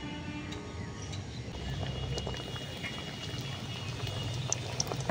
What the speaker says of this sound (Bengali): আবারও প্যাটিসগুলো তেলের মধ্যে দিয়ে দেবো ভেজে নেওয়ার জন্য।